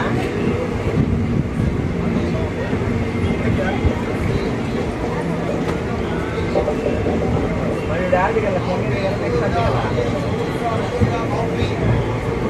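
A Basava Express passenger train runs between Yeshwantpur and Mysore, heard from inside as a steady loud rumble and clatter, with murmuring passenger voices underneath.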